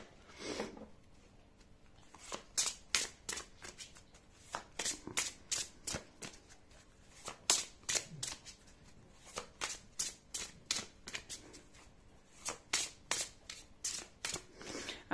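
A deck of oracle cards, the Chemins de l'éveil set, being shuffled close up in quick repeated riffling bursts with short pauses between handfuls, heard alone without talk.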